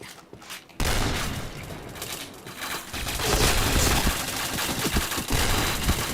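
Rapid sustained automatic gunfire in the shooter game PointBlank, loud dense bursts starting abruptly after a brief quiet moment and continuing with heavy booming shots.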